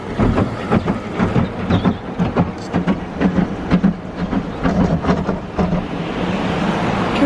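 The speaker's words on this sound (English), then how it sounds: "We're getting a spot-free rinse now." Spot-free rinse water sprays over a car inside a Belanger Spinlite car wash tunnel, a loud, close rushing hiss with rhythmic pulses and rumbling tunnel machinery throughout.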